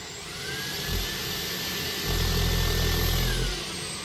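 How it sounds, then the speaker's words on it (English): A Shark PowerPro IZ380UK cordless stick vacuum runs steadily on boost mode, its close, loud motor whine rising to a deeper, stronger hum partway through before easing back. "This is the new Shark PowerPro cordless stick vacuum."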